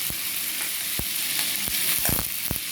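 Square-cut capsicum sautéed in a hot pan, a steady bright sizzle with several sharp scraping stirs of a spatula spaced through it, close and clear with no talking.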